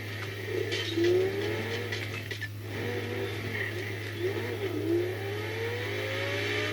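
A car engine in the video game GTA 5 revs and accelerates through rising, shifting gear sweeps over a constant low hum, at a moderate level with no talk.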